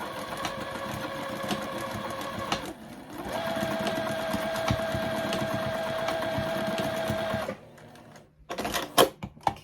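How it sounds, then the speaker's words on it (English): Sewing machine stitching back and forth across a quilted zipper pouch, a steady close motor whir in runs with a short pause near the start, then stopping with a few clicks and handling sounds at the end. "And then we're just going to sew back and forth, reverse stitch, back stitch,"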